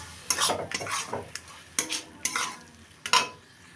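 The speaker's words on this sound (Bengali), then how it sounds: "নারকোল বাটাটা দিয়েও আমি আবার খুব ভালোভাবে ভেন্ডির গায়ে মিক্স করে দেব" Okra being stirred with coconut paste in a pan: scraping stirs recur every half second or so over a soft sizzle, close and clear with no talk.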